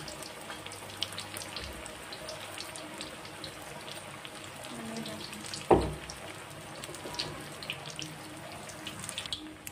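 Bread pakoda fry in oil in a small kadhai, a faint steady bubbling sizzle with light crackles and one brief louder clatter midway.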